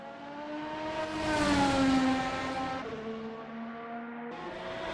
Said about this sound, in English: Here comes Cody Lawrence deep onto the brakes into Lacombe's.